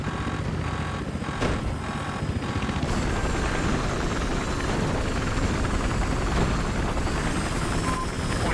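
A helicopter in Battlefield Hardline thunders with loud, continuous rotor and engine noise close by, a constant heavy drone throughout with brief thumps near the start.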